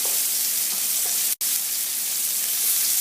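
A chicken Marsala sauce thickens in a hot pan as it is stirred, giving a loud, even hiss of sizzling that runs steadily with only a brief break partway through and no talking.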